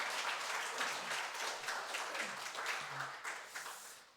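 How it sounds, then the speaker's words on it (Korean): A church congregation at Sunday worship claps in welcome for a returning deacon, a brisk burst of applause that tapers off toward the end. "우리 박수로 좀 환영해 주시기 바랍니다."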